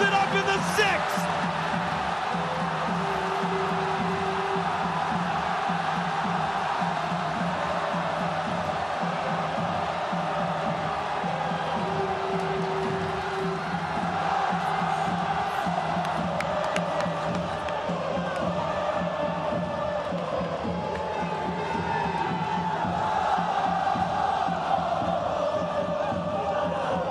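A home crowd roars and cheers after Yu Chang's game-tying sixth-inning home run for Chinese Taipei against Italy at the World Baseball Classic, a sustained loud ovation with whoops lasting the whole stretch.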